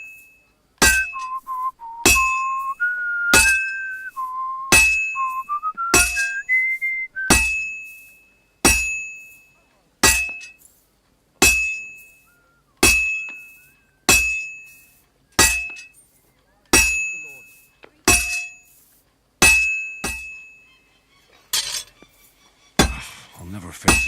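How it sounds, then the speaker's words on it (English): Hammer striking metal at a forge in the video game Kingdom Come: Deliverance 2, a steady series of about eighteen ringing, clinking blows roughly a second apart, loud and close, with faint tonal whistling early on. "I have to hammer it more evenly."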